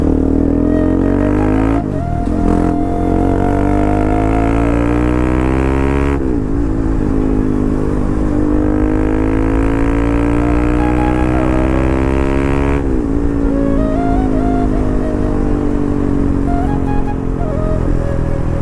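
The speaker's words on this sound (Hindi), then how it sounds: "पता नहीं मेरे को आज इतनी ज़्यादा बाइक की साउंड बहुत प्यारी लग रही है यार" A motorcycle exhaust roars loud and close during a ride, its pitch climbing and dropping through several gear shifts over a constant engine drone.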